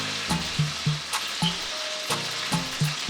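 Chicken breast cooking in a hot pan on a stovetop set to about 6, a constant close sizzle with repeated tonal clinks and scrapes at short intervals, no voices.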